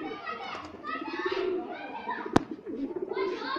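Pigeons on a rooftop give soft, throaty coos under nearly continuous talk from a man nearby, with one sharp click partway through.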